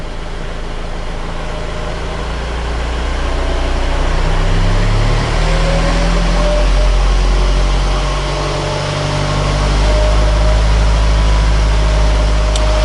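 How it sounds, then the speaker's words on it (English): A Honda CR-V engine is held at a steady raised RPM with a pedal depressor during a diesel particulate filter cleaning. It makes a constant, close engine drone with slight swells and no talking. "So let's get a nice steady engine RPM"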